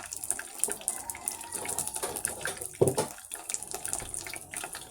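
Burger patties frying in a pan with water in it, a continuous close hiss of sizzling with scattered pops and crackles, one louder spurt near the middle.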